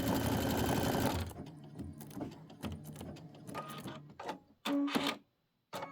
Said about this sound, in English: Now it's going to do the decorative fill.